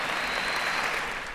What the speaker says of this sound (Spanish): Un aplauso, por favor, a los que participaron.